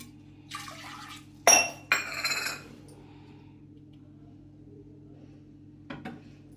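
Rice being washed in water in a kitchen bowl, a few splashing swishes and clinks of the vessel, with a brief louder burst of sloshing and long quiet gaps, close and fairly faint.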